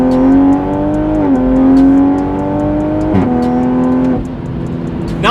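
A 2020 Toyota Supra with a fast ZF 8-speed automatic accelerating, its engine droning steadily, climbing in pitch and dropping briefly at quick gear shifts, heard close and loud with no talk.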